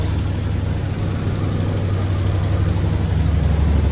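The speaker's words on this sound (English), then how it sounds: "you can hear that the car runs really well" A 1965 Lincoln Continental Convertible engine idles steadily through a worn exhaust needing replacement, a deep, rough low rumble with faint rattling vibration, continuous and close, with no voices.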